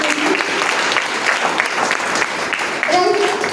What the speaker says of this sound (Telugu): ఒకసారి గట్టిగా క్లాప్ చేయండి.